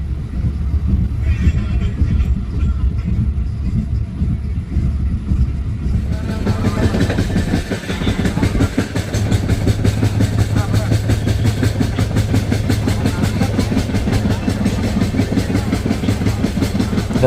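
A steady, loud rumble of a moving train with rhythmic rattling from the wheels, continuous throughout and heard from inside the carriage, during rain in Kerala near Kottayam.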